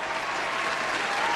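A short burst of dense, even clapping from a crowd, loud and continuous throughout with no talking over it.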